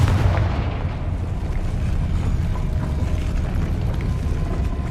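Confringo fire-blast spell explosion in the video game Hogwarts Legacy, a loud continuous rumbling boom with low, dense roar that stays steady and fills the whole stretch without speech.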